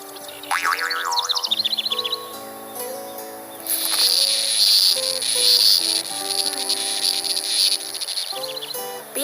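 A grasshopper chirps in fast rasping pulses layered over bright synthetic music and springy boing effects, loud and continuous throughout.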